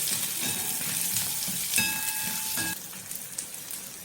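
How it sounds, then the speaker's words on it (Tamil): Onions and green chillies sautéing in a pan for tomato chutney, a close, steady sizzle with scraping stirs of the spatula and a few bright metallic clinks against the pan. "வெங்காயம் நல்லா வதங்கிடணும்."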